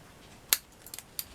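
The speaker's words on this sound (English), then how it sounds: "So I'm just going to nip in there and snip that one out." Craft scissors snipping a shabby chic paper flower, heard close: one crisp snip, then a quick double snip and a last light cut, in a quiet room.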